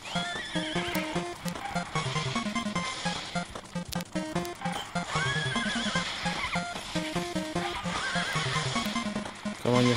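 Repeated horse whinnies and neighs over steady clip-clopping hooves, layered with busy game music and effects from QQ Speed Mobile, loud and continuous.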